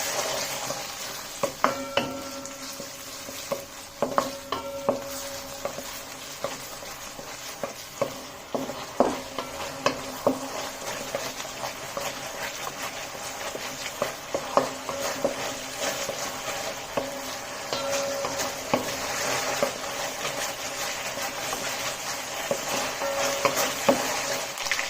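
Ginger garlic paste, about three spoons, fries in a pan with a continuous sizzle while a utensil scrapes and taps against the metal in irregular strokes, close by and steady over the whole stretch.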